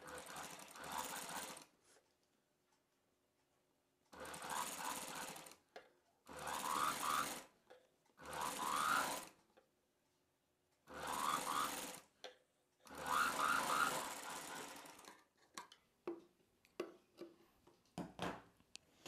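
Sewing machine stitching around the folded edge of a buckram piece for a cotton summer frock for kids, in six close, rattling bursts with short pauses between, then lighter handling clicks at the end.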